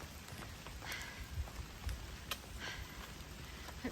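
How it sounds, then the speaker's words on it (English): Steady light rain pattering on a wooded hiking trail, a constant close hiss with scattered individual drops ticking on leaves and ground. "It's raining a little bit. It's more than a sprinkle, less than a downpour."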